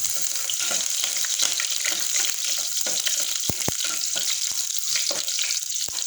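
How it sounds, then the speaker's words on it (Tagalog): Garlic sautés in a pan for pork sinigang, a loud, steady hissing sizzle close by, dotted with crackles and a few sharp pops throughout. "Gigisa natin. Para mas malasa siya. Lagyan ng bawang."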